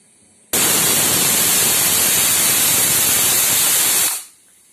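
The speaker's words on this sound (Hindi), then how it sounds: "ये हमारी पहली सीटी आ चुकी है" A pressure cooker cooking rice for kheer lets out its whistle, a loud, steady hissing blast of steam that starts abruptly, holds for about three and a half seconds, then cuts off quickly.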